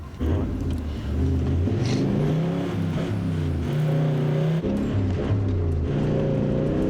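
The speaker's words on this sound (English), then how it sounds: "Third or fourth, Dave? What do you reckon? Your third runs out pretty quick, doesn't it" A 4WD engine labouring in gear through flooded desert tracks, a steady loud drone with rising and falling pitch as it revs and pulls, continuous and close throughout.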